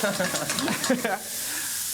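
Chow mein vegetables, onions and peppers, are tossed in a hot pan on a TV cooking segment, giving a loud steady sizzle with stirring scrapes while people talk over the first half.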